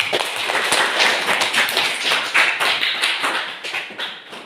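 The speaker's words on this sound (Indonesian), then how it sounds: "Kita tepuk tangan." Classroom students clapping hands together in a steady burst of many overlapping claps, fairly loud and close, lasting the whole stretch without talk.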